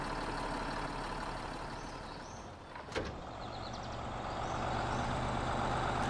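Truck engine droning under gentle throttle in the off-road driving game SnowRunner, a steady low rumble with a brief mechanical clunk partway through and faint whirring, no voices.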